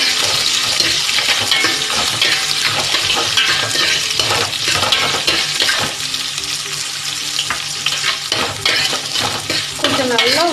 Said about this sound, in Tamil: கொஞ்சம் நல்லா வறுபடட்டும்.